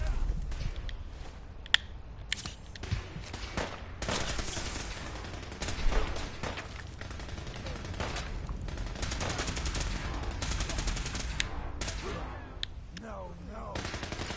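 Dense gunfire in a Fallout 4 battle: rapid volleys and bursts of automatic shots, sharp single cracks, and loud overlapping fire through the whole stretch, with shouted voices mixed in.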